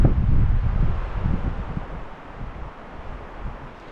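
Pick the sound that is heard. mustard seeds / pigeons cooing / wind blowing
wind blowing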